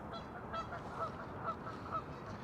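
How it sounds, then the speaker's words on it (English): Geese honk at an outdoor park on Roosevelt Island in New York City in early spring, with four short calls spaced about half a second apart over steady background noise. "The geese are doing their geesing things."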